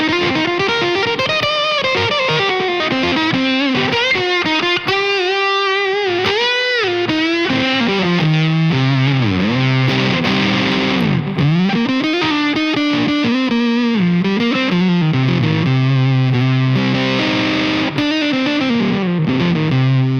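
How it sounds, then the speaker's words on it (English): Electric guitar played through a Coriolis Effects Face Deluxe fuzz pedal set to high bias, giving a thick, saturated, sustained fuzz tone across continuous melodic lines and bends, loud and close with no talking. "That's one of my favorite fuzz tones on top of a regular fuzz face"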